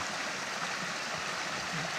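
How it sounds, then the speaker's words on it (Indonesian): Steady rushing flow of the Citahanan River in Indonesia, murky water streaming continuously and loud nearby, with no voices over it. "Saya berada di sungai. Nama sungainya itu Sungai Citahanan."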